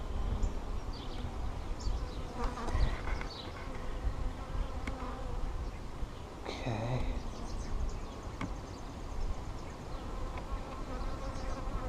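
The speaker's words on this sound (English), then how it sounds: "I'll shake some more bees over here and I'll lock them up for the rest of the day." Honeybees swarm around a top bar hive during a split, a dense, steady buzzing close by with individual bees droning past and faint outdoor background.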